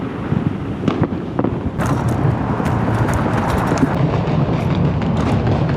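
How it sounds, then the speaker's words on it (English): Fourth of July fireworks pop and crackle along Beach Boulevard in a steady, dense barrage, with sharp bangs at the start followed by a continuous crackling spread and passing traffic underneath. "And a bunch of fireworks are going off over here."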